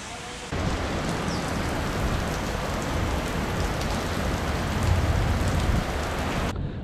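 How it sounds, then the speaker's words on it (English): Heavy rain pours steadily in Singapore, a dense, even hiss that starts abruptly and holds at full strength before cutting off near the end, with no voices over it. "So we are still waiting for the rain to stop, and I hope it will stop soon."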